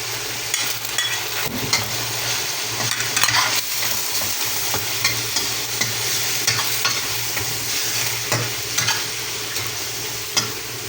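Shrimp for pancit bihon sizzle steadily in a pan, stirred throughout with scraping and clinking, close and continuous with no talk.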